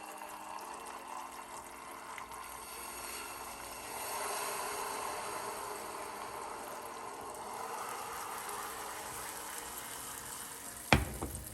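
Caramel with butter and cream bubbles and sizzles in a pan for banana pancakes, a soft steady frying hiss that swells slightly midway, with a brief sharp clatter near the end.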